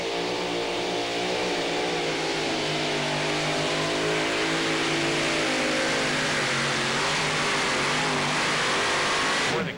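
A 2WD pulling truck roars at full throttle during an NTPA Super Nationals truck pull in Tomah, Wisconsin, its loud, steady engine howl sustained for the whole run with no voices over it.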